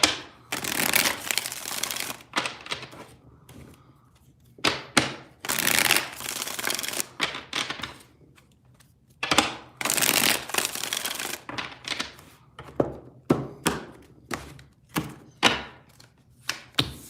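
Close, dry shuffling of a tarot deck, coming in repeated bursts of riffling and tapping with brief gaps between them, and no voices.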